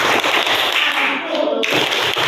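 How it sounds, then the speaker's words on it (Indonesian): A classroom of pupils claps along in a chant, with rapid, dense clapping filling most of the moment, a brief dip, then clapping again. "Tepuk 1, tepuk 2, tepuk anak soleh"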